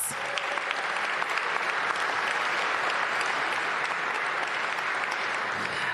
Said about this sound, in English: Let's give Ted and Monumental Sports a big round of applause.